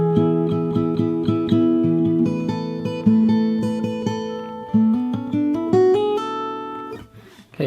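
Fingerstyle acoustic guitar plays a passage, with plucked notes and sliding chord changes climbing in pitch, heard up close and alone before it stops abruptly near the end.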